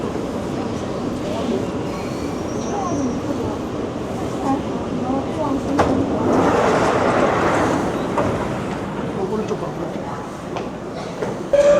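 A Seoul subway train rumbles along the platform and brakes into the station, a continuous loud rolling roar with rattling that swells midway, mixed with station crowd murmur and talk.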